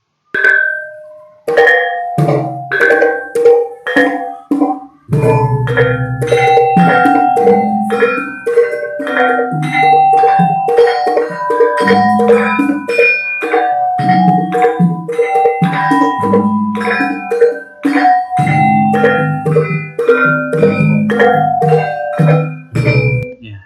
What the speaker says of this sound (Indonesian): Jadi nama goong ini diambil dari nama suaranya itu sendiri yaitu gong ya.